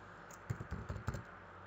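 Quick, faint keystrokes on a computer keyboard as a short command is typed into 3D design software: a brief burst of soft, uneven clicks in a quiet room.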